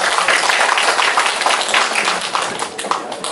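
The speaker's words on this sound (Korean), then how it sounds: "이번에 박수 부탁드리겠습니다" Dense audience applause at a seminar talk on job interviews in Japan, a steady wash of many hands clapping that fades slightly toward the end, with faint voices mixed in.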